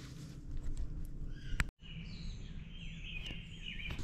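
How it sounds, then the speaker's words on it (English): Birds chirp at dawn outside a tarp tent at a campsite, a few thin calls sounding over a steady low background hum, with one abrupt break midway before the chirping continues. "You can hear the birds chirping."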